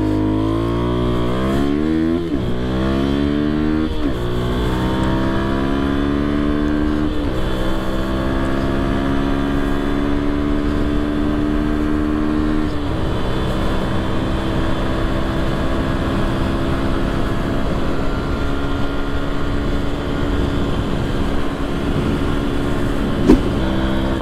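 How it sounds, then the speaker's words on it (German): Fantic Caballero 125 Scrambler motorcycle accelerating hard through several gears, the engine note climbing and dropping at each shift, loud and steady with wind rush throughout. "So, wir testen hier mal einmal kurz die Beschleunigung von dem Fahrzeug."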